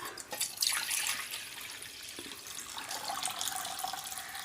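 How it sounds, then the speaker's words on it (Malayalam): Hot water pours steadily into a cooking pot for Malabar-style dum biryani, a running splash with small bursts and gurgles, close by and alone. "അപ്പോൾ രണ്ടാമത്തെ കിണ്ണം വെള്ളം കൂടി ഒഴിക്കുക."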